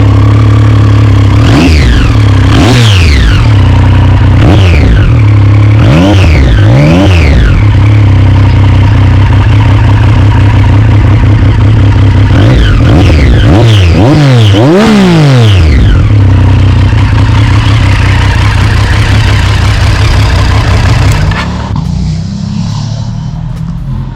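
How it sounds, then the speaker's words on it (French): A 2014 Triumph Street Triple 675R three-cylinder motorcycle engine revs repeatedly up and down from a steady idle, loud and close, with several sharp throttle blips before easing off near the end. "il y en a qui détestent effectivement ce bruit de sifflement typique au Triumph"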